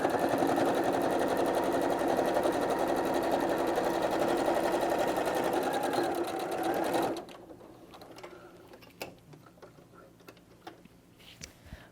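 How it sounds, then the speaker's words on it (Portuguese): A sewing machine runs a straight seam on a canvas bag with a fast, continuous, close mechanical whirr. After about seven seconds it stops, leaving quieter scattered clicks and handling noises. "Então eu vou passar uma costura reta aqui para evitar que ele fique mexendo assim"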